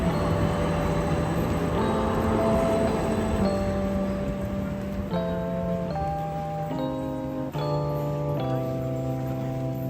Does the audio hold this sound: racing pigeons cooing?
no